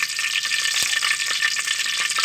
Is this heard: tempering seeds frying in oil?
yes